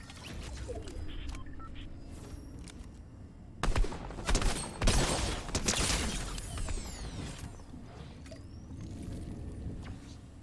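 Gunfire and weapon handling in a video game: a quiet mechanical stretch gives way to a loud burst of rapid shots and clattering mid-clip, then settles into softer game noise, with no speech.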